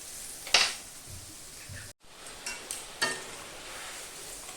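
Water is poured onto fried mustard masala in a pan while making chital fish curry, bringing a burst of hissing sizzle and a few stirring scrapes, with a brief drop to near silence partway through.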